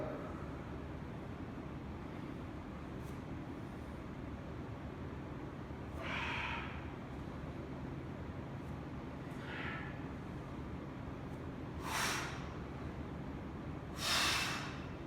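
Heavy breathing during a workout, faint sharp exhales or snorts coming in a few separate bursts spaced several seconds apart over a low, steady background hum.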